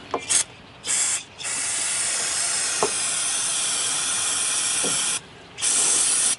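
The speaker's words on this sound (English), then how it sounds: "I'm using the electronic safety spray." Several bursts of electronics-safe aerosol spray hiss nearby while working on a 1989 Jeep Comanche with a running fault: short blasts, then one long steady spray lasting several seconds, then another short burst.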